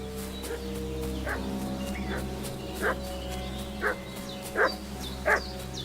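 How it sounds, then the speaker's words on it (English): A dog in the video game Kingdom Come: Deliverance II barks about five times in short, spaced bursts, moderately distant, over a steady low ambient hum of the game world. "What's that dog making such a fuss about?"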